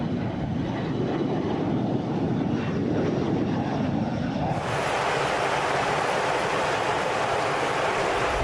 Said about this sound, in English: we have improved the capabilities of the KC-135 aircraft by giving them bigger engines, more thrust available